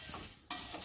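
Aval (beaten rice) mixture with pappadam stirred in an uruli pot, a short soft scraping stir with a faint sizzling hiss and one brisk scrape midway, no voices.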